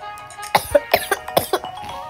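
A series of sharp, repeated coughs, about six bursts in quick irregular succession, close and fairly loud.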